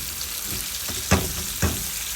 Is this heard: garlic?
yes